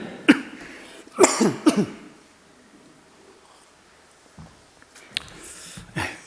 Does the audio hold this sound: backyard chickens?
no